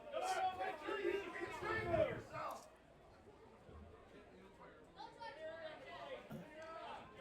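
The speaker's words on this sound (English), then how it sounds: "Very boisterous crowd here this afternoon at Fergie Jenkins Field." A lively crowd chatters and murmurs in the stands at Fergie Jenkins Field during an afternoon baseball game, the babble loud at first and then settling into a softer hum.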